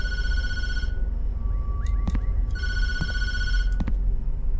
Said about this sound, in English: I'm answering the phone.